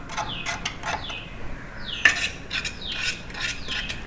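A halwa mixture is stirred in a pan over a raised flame, with close, rhythmic scraping strokes about every half second and no voices.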